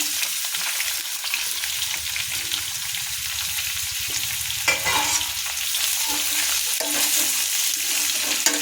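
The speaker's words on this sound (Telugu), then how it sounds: "ఇది రెండు మూడు నిమిషాలు ఎర్రగా వేయాలి" Chopped onions frying in oil after cumin seeds, with a steady close sizzle and repeated scraping of a spatula stirring through the pan.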